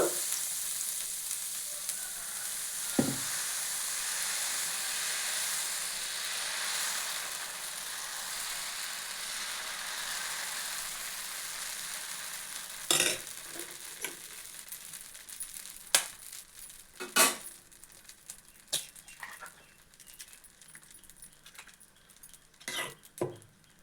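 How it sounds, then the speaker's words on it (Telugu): An egg dosa sizzles on a hot pan in a steady, hissing fry that carries on for a long stretch. Later come sharp metallic clinks and scrapes of a spatula against the pan, all close by. "ఇప్పుడు ఎగ్ దోశ పోస్తున్నాను"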